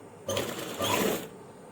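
A sewing machine stitches an invisible zip onto a kameez in two short, close mechanical bursts of rapid whirring, each under a second.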